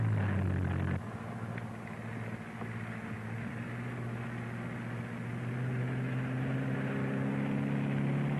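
An experimental Italian-designed tubular airplane flies with a steady, droning propeller engine hum that holds constant throughout, a continuous mid-loud tone with no talking.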